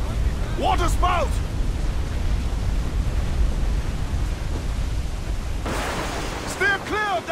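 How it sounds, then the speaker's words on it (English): A waterspout at sea in Assassin's Creed IV Black Flag, a loud continuous roaring rush of wind and spray like heavy surf, with shouting voices breaking in at the start and near the end. "Water spout!"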